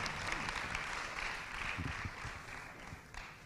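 Church audience applause welcoming a pastor, a moderately quiet, continuous wash of clapping lasting a few seconds with some low murmuring beneath.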